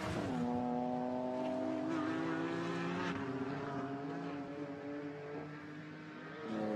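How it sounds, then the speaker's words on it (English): A Porsche GT4 race car climbs uphill at Imola circuit, its engine holding a loud, steady, close-up drone with a layered whine that shifts slightly in pitch as it carries through a gear change near the end. "So the Porsche uphill now, heading towards the Variante Alta."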